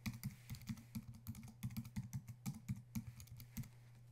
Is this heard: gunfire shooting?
no